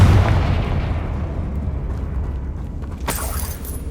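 A Confringo blasting spell in Hogwarts Legacy goes off as a loud, deep explosion that rolls into a decaying low rumble, followed by a short crackling burst near the end.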